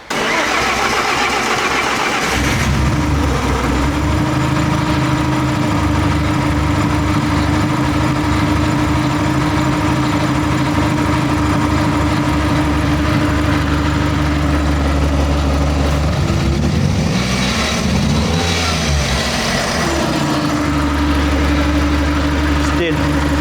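A Toyota Run X car engine runs steadily at idle with a misfire, loud and close throughout, its low hum rising briefly near the end, with some talk mixed in.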